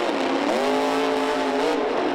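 A monster truck's engine screams at full throttle during a freestyle run, a loud sustained roar whose pitch climbs and then holds high.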